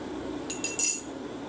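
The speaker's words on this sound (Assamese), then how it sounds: "বাতি লৈছোঁ এটা আৰু এখন চামুচ" A metal spoon taps against a bowl in a home setting: a few quick, bright clinks close by, the last one ringing slightly longer over a quiet background.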